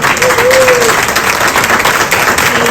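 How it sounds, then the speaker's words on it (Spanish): An audience claps and applauds loudly and steadily at an indoor book fair event, a dense continuous patter with a brief voice underneath. "aquí está mi amigo Pepe Forte, un aplauso para él, porque él es..."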